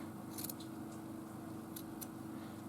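Scissors cutting into craft material for a handmade journal cover: a few quick, faint snips in two short clusters over a quiet room hum, no talking.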